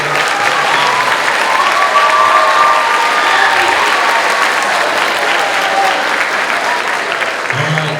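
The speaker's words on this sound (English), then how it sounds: "Let's give these guys a round of applause for taking the time out to come out." A school audience applauds guests Corey Gipson and Hansel Enmanuel, steady loud clapping with crowd noise and a few cheers throughout.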